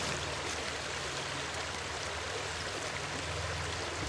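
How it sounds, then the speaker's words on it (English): Water streams steadily from a squeezed flexible bottle through a Drink Safe Systems filter into a pot, a continuous close splashing pour with no pauses and no voices. "squeeze the bottle and you get a good supply of water, as you can see"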